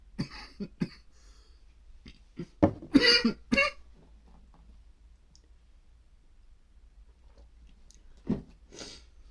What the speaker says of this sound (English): I'm coughing more and more and more